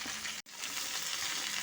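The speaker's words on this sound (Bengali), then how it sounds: "মিডিয়াম আঁচে আলু আর ফুলকপিটাকে একটু ভাজা ভাজা করে নেব।" Potato and cauliflower pieces fry in oil over medium heat with a steady close sizzle and a brief break near the start, and no one speaks.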